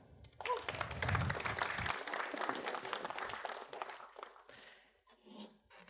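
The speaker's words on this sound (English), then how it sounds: "A big applause." Applause from a WordCamp conference audience greeting a presenter, a broad crackling wash of clapping that swells, then thins and tapers off toward the end, with some faint murmuring under it.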